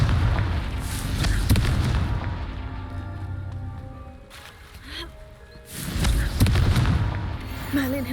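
In Hogwarts Legacy, a Confringo fire spell erupts against rocks in a cluster of booming, crackling blasts, with a second burst later and a faint character voice between them.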